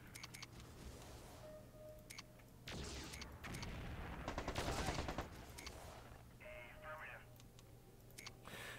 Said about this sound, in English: Hey, I'm under fire over here. Oh no, we're under fire.